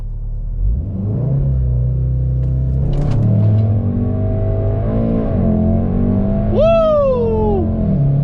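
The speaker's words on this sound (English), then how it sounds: "We're gonna launch." A tuned Volkswagen Mk7 Golf R launches from inside the cabin, its engine droning and rising through revs with gear changes, then a sharp rising rev near the end, with a brief whoop from occupants.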